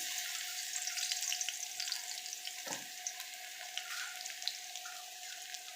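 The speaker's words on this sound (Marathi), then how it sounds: "मी आता हे कुठलेलं लसूण त्यात टाकते" Crushed garlic frying in hot oil over medium heat for a dal tempering, a steady close sizzle with a soft crackle and a brief low clatter midway, no voices.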